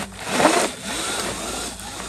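An electric Surron Light Bee X dirt bike, fitted with a Torp TC500 controller and in sport mode, is ridden at full throttle. It gives a steady, fairly loud high whine with rough wind and tyre noise and no talk.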